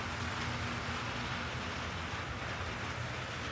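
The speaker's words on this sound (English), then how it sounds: "Rain, storms continue." Steady rainfall hissing evenly, with a faint low rumble underneath; soft and constant, no voices.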